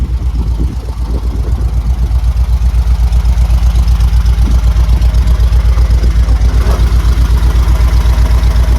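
A Volkswagen Beetle engine with heavy crankshaft end float idles close by, a steady, loud low pulsing throb that holds an even rhythm throughout, with a faint rattly texture over the top.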